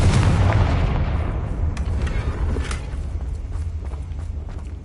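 A Confringo fire spell blasts in Hogwarts Legacy, a loud booming explosion with a deep rumble that decays slowly, followed by a few sharp crackles and thumps.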